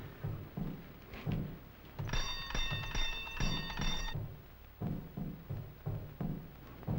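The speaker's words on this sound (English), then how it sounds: "You ring the bell." A doorbell rings for about two seconds with a bright, buzzing electric tone in a 1941 spooky comedy film, between heavy footsteps and thuds.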